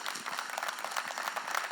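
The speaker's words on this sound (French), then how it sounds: "Un grand applaudissement, chères dames et messieurs." An audience at a French-English performance preliminary breaks into a round of applause, with brisk, continuous clapping that stays even throughout.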